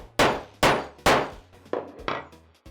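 Hammer striking a metal spring snap being set onto a jacket, five sharp ringing metallic whacks at an uneven pace, close and clear with no talk.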